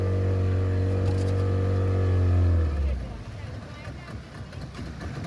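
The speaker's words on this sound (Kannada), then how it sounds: "ಪಾಪ ವಾಪಸ್ ತಿರುಗಿಸ್ತರು ಬೋಟ್ ಅವರು." Motorboat engine rumbling loud and close with a steady low drone, then dropping off sharply as the boat turns back, leaving wind and water noise behind.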